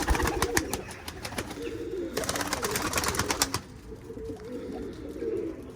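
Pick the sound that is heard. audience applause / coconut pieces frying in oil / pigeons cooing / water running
pigeons cooing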